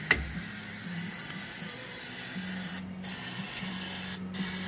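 Undercoating hisses steadily from an aerosol spray onto a car's front suspension and hinges, a close, continuous spray broken by two brief pauses.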